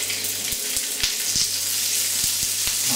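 Prawns seared in a smoking hot frying pan, a loud bright steady sizzle with a series of short utensil taps and scrapes, no talk.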